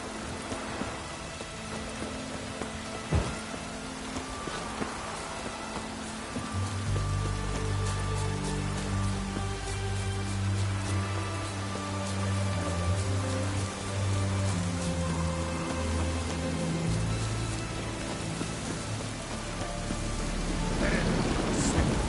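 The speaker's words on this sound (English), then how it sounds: "Looks like rain." Steady rainfall hisses throughout in The Witcher 3, joined by a deep rumbling drone that swells midway and lingers, with no one speaking.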